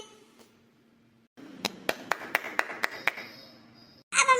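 About eight sharp, evenly spaced hand claps welcoming a singer at an animated 15 August celebration, starting after a near-silent stretch and ending in a brief louder burst.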